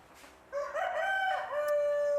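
At a chicken coop, a rooster gives one clear, drawn-out crow at moderate distance, with faint background noise and no talk.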